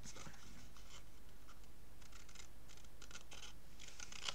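Paper being cut with scissors during a scrapbook album craft, a series of soft, crisp snips and rustles over steady background hiss, close and fairly quiet, no talk.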